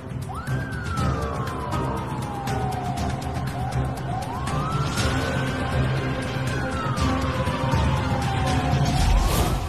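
A police siren wails up and down in long sweeping cycles, loud and continuous over steady traffic rumble.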